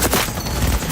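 Gunfire from Cyberpunk 2077 rattles in a dense, loud burst of overlapping shots that fills the whole second without any break.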